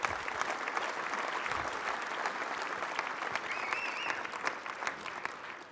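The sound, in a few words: applause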